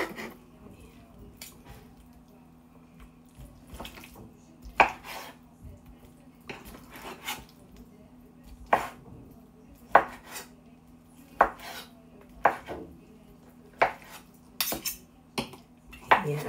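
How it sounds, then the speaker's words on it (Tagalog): A knife slices through octopus tentacles on a board, with irregular sharp taps and clicks that ring out against a quiet background and a low steady hum. "So, sabay-sabay ko ng hiniwa."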